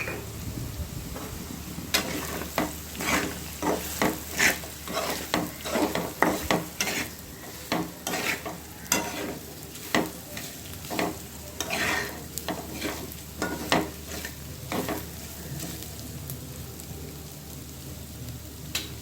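Ground coconut paste frying in a pan while a spoon stirs it, giving many rhythmic scraping strokes over a soft, constant sizzle for a long stretch with no talk.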